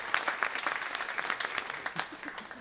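High school basketball crowd in a gym applauding seniors, a brisk, dense patter of many hands clapping with a few cheers, steady and fairly close throughout the short stretch.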